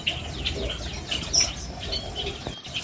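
Rock quail in a mini aviary give short chirps and calls against a busy background hum, with brief wing flutters among the scattered bird sounds.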